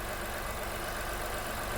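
A Nissan Rogue T33 with the 1.5 KR15DDT engine runs steadily at idle, a dense, continuous mechanical drone heard close and fairly loud with no talking.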